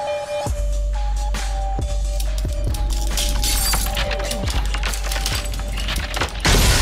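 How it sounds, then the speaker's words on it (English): A fish tank's glass smashing, with a rapid series of sharp cracks, shattering crashes and tinkling shards spread over several seconds, loud and close, ending in a final burst of noise. "Broke my damn fish tank."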